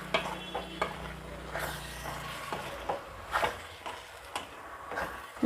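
Tomato and yogurt masala sautés in a pan, sizzling steadily while a spoon scrapes and stirs in irregular strokes, close and fairly loud.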